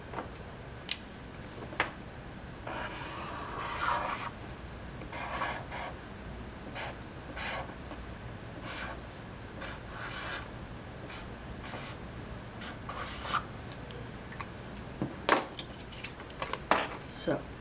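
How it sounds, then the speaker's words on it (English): Pen writing a name along the fold of a sheet of folded paper, heard as soft scratchy strokes in short bursts with small taps, close and quiet. "step one is to write your name along the fold"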